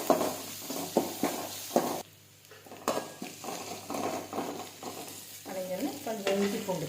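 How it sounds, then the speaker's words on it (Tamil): Curry leaves sautéing in a pan for an eeral-style vegetarian gravy, a soft sizzle with repeated stirring scrapes and light clinks of a spoon against the pan, close and moderately quiet. "நல்லா வதங்கணும்."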